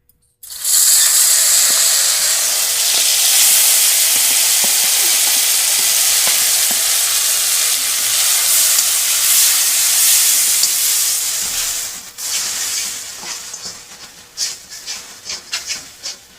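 Spices drop into hot oil in a Bengali home kitchen while making doi ilish, setting off a sudden loud, steady sizzle that holds for about twelve seconds, then breaks into quieter crackles and spits.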